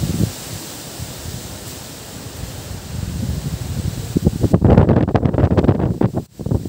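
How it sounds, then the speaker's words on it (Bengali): Strong wind from Cyclone Remal gusts hard across the microphone, giving a loud, roaring rush that builds toward the end with buffeting bursts and a brief drop. "দেখুন কি বাতাসটা ছিল।"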